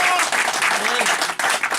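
A church congregation claps for Jesus during a deliverance and healing service, a dense wash of applause filling the room steadily throughout, with a voice carrying over it.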